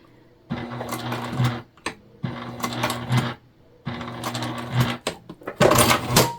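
A sewing machine stitching fabric over thick webbing while making a crossbody bag: three loud, fast whirring runs of stitching separated by short pauses and clicks, close and clear with no talk.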